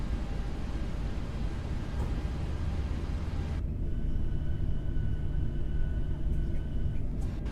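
A Boeing 737 taxis in the X-Plane 12 flight simulator, a steady broadband engine rumble and hum that shifts tone partway through and carries on without pause.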